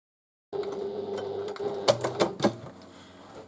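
A sewing machine runs a straight stitch along the outer pieces of a tote bag, starting after a half-second of silence with a steady close mechanical whir, then several sharp knocks near the end as the stitching finishes.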